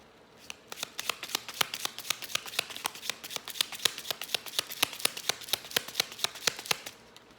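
Tarot cards shuffled by hand, close up, with a fast, even run of crisp riffling snaps repeating steadily for several seconds and no voices.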